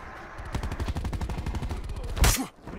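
A gun firing in Black Ops 4, a fast stream of close, punchy automatic shots for about two seconds, ending with a louder burst and then quiet.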